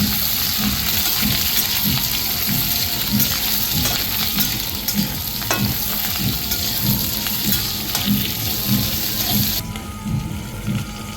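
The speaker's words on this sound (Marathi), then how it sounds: "दोन ते तीन मिनटं ह्या मिरच्या खालीवर भाजून घ्यायच्या" Cut green chillies roasting in a hot pan, a continuous close sizzle and crackle with rhythmic stirring scrapes running throughout, with no voices.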